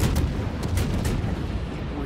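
Heavy naval shells strike a warship in a naval battle video game, a dense run of booming impacts and rumbling blasts that stays loud and continuous throughout.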